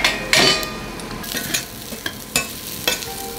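Button mushrooms dropped into hot pork fat in a pan for boeuf bourguignon, giving a steady soft sizzle broken by a few sharp clatters and stirring scrapes, close by with no talk.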